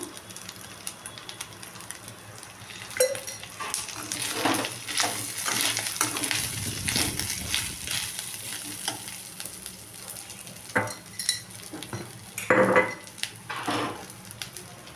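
Chicken fry with coconut paste sizzling steadily in hot oil in a pan, stirred now and then with scraping clinks of a spoon, continuous and close.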